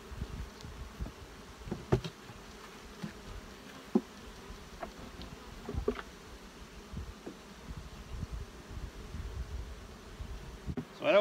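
Honeybees buzz around a frame of brood lifted from a hive, a soft, continuous hum with scattered faint knocks and rustles, heard close and fairly quiet.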